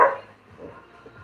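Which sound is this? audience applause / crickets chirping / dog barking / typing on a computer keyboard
dog barking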